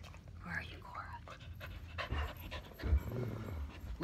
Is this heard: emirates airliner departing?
no